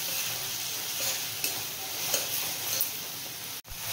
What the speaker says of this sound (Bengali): এরপর আমি আদাটা দিয়ে দেব। আদাটা দিয়েও ভালোভাবে মিশিয়ে নেব।